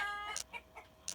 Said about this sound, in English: My roosters are really acting up.